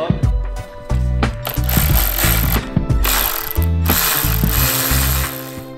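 A ratchet backs 10 mm screws out of a motorcycle fairing, clicking in quick bursts that are close and loud. Short pauses and metallic clatter separate the bursts.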